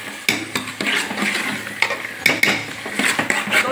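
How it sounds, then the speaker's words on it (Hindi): Chickpeas go into roasted masala in a cooking pot, with dense sizzling and repeated metallic clinks and scrapes of a spoon against the pot, close and fairly loud, with no voices. "मसाला भुन चुका है, अब हम चने डाल रहे हैं।"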